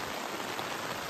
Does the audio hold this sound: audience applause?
no